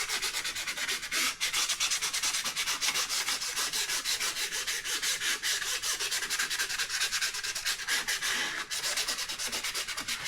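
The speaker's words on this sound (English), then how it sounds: "You're really just trying to get a tiny bit of that upper surface just roughed up." Sanding on the vinyl pontoon surface of a FeelFree Airship kayak, lightly roughing it up: a continuous, steady scratchy rasp with brief pauses, close and loud, with no talking.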